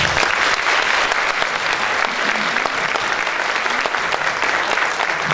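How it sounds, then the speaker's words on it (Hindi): An audience fills a hall with sustained applause after a live music performance at an arts council venue, a loud, continuous roar of many hands clapping with no talk. "आज पूरा हाल तालियों से गूंज हो।"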